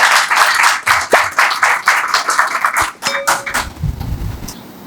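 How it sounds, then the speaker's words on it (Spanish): Audience applause welcoming the director of a philosophy school at a book launch, a sustained burst of clapping from a crowd that fades into a quieter room. "vamos a recibir con un fuerte aplauso al director de la Escuela de Filosofía"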